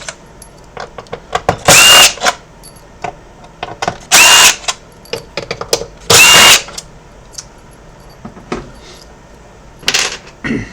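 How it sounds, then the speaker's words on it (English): A small impact driver backing green screws out of an Xbox console case, heard as three loud buzzing bursts about two seconds apart and then a shorter fourth, with light clicks and rattles of loose parts in between. "I'm going to use a quick little impact driver and finish this off"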